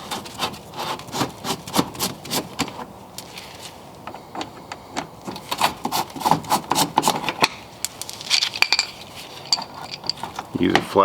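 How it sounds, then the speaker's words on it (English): A flathead screwdriver scrapes and pries at the plastic headlight cover of a 2007-2013 Nissan Altima, making close scratchy rubbing and clicking plastic snaps in uneven bursts. "Use a flathead to kind of pry this guy out."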